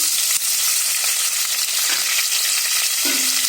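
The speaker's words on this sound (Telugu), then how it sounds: "ఇప్పుడు ఆనియన్స్ యాడ్ చేద్దాం. అలాగే గ్రీన్ చిల్లీ" Onions and green chilli hit hot oil in a pan for coconut milk pulao, giving a steady, loud, close sizzle. A few faint stirring scrapes run through it, with no talk.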